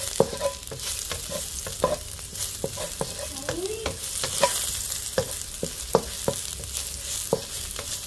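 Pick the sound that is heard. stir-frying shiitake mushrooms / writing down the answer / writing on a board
stir-frying shiitake mushrooms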